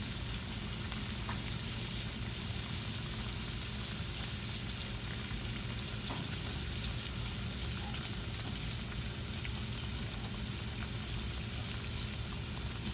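Green tomato slices fry in oil heated to about 350 degrees, giving off a steady, dense sizzle that stays close and even throughout with no voices over it.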